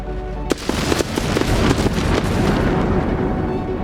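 Spaceship missiles burst and explode during a space battle in the strategy game Endless Space 2, with a sharp blast followed by a dense, rumbling barrage of crackling booms, loud and continuous.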